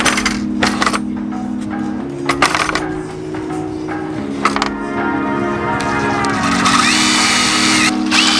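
A power drill bores holes for hinges in a van, whirring in bursts that change pitch as the speed shifts. The sound is close and loud, with a few sharp metallic clicks between runs.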